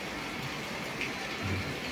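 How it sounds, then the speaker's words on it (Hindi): Heavy monsoon-style rain pours down in Delhi, a dense, steady hiss of water hitting surfaces, continuous and unbroken, with no voices. "दिल्ली में तो बरसात हो रही है"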